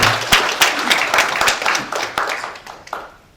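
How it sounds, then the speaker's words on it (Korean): Audience applause at a regional council meeting in Busan, a burst of many hands clapping that starts loud and gradually thins and fades over a few seconds. "여러분 다시 한번 박수 부탁드리겠습니다."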